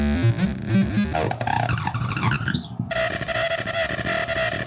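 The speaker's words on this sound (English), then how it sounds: "I now have a ton of new laser components to play with, which I've accidentally discovered makes incredible sounding digital threshold distortion" Harsh digital threshold distortion produced with laser components, a dense, buzzing and glitchy texture that runs continuously and loud for the whole stretch, shifting abruptly partway through into a steadier, sustained tone.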